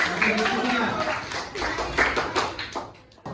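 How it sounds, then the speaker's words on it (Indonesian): Schoolchildren in an Islamic studies class clap their hands together for the discussion groups, a busy patter of uneven claps close by with voices mixed in. "tepuk tangan semuanya untuk kelompok 1, 2, 3, 4"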